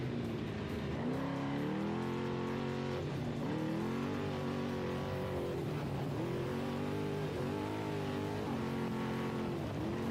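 An off-road race car speeds along at about 78 miles an hour during the NORRA Mexican 1000, its engine droning and rising and falling through gear changes, heard loud and steady from inside the car.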